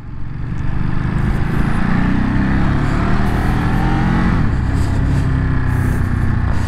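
A Ducati Monster 937 roadster motorcycle rides at a steady pace, its engine a loud, continuous low drone with a slight rise at the start.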